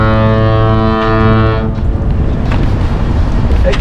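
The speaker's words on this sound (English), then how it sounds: "there's like ships like honking from all around" A deep ship's foghorn blares loud and sustained aboard a sailboat moving through fog, then cuts off, leaving heavy wind rumble and water noise.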